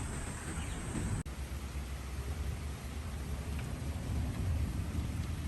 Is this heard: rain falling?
yes